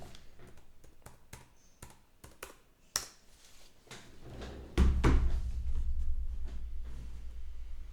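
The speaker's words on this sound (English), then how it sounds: "Let me type in my password." Fingers type a password on a Satellite Pro laptop keyboard, a quick run of close, crisp key taps with a few louder strikes, followed by a steadier low hum from the machine.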